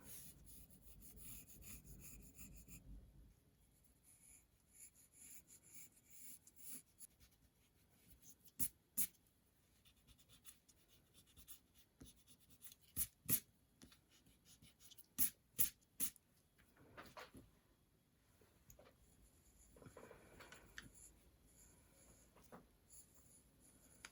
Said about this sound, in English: I like to kind of lightly sketch, and you can see I'm having to refine this.